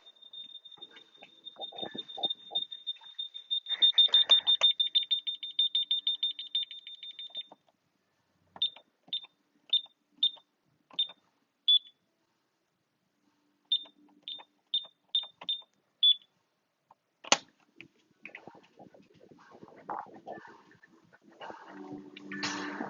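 An alarm sounds outdoors with a steady high electronic tone, then breaks into short repeated beeps in separated bursts, moderately loud, before it is switched off and handling noises follow.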